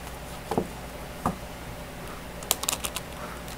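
Game of Thrones tarot cards are shuffled by hand, giving a few soft isolated taps followed by a quick flurry of light clicking riffles near the listener.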